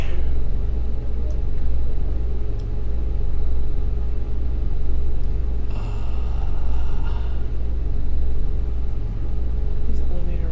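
Elevator ride in the Mass Effect video game, a loud, steady low rumble and hum that pulses gently throughout, with a brief higher whirring swell partway through.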